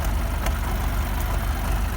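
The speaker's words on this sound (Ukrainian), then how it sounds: "Тракторець працює, нормально." A tractor used for reseeding soybeans idles steadily close by, running normally: a low, even chugging rumble with a fast regular throb, continuous for the whole stretch with no voices.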